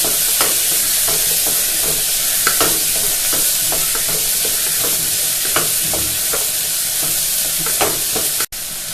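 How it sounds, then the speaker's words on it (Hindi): Carrots, potatoes and peas frying with onion masala in a pan, a steady loud sizzle with rhythmic scraping stirs throughout, ending in a brief cut. "अब मैंने इसमें गाजर, आलू और मटर डाल दिया है और वो मैं डाल के भून रही हूँ।"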